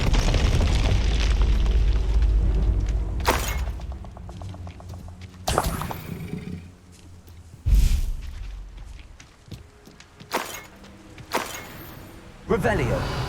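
Repeated explosive spell blasts from Hogwarts Legacy gameplay, several sharp booming bursts spaced a few seconds apart over a rumbling low background, with a voice calling out spells in between.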